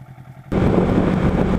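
A Kawasaki motorcycle is ridden, its engine suddenly rising from a quiet low idle rumble into a loud, dense, steady roar that continues to the end.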